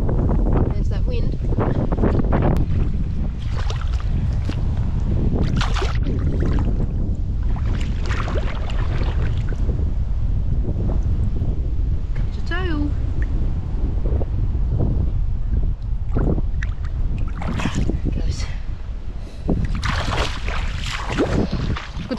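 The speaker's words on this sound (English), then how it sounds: "There's that wind." Wind buffets and roars across the microphone on a fishing boat, a loud, continuous rumbling gust with rustling and occasional knocks, while a voice briefly speaks over it.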